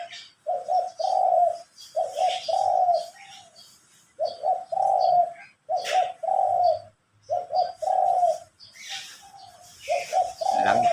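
Pigeons or doves coo in repeated soft phrases outdoors, with brief chirps from other birds between the calls, fairly close and steady throughout without any talking.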